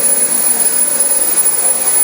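A Dyson DC25 vacuum cleaner running without a filter gives a steady, loud, even motor whine and rush of air, close to the microphone, with no voices.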